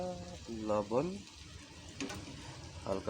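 Eggplant and egg frying in oil make a faint, low sizzle beneath brief bursts of a voice talking over the pan.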